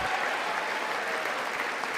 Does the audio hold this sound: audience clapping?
yes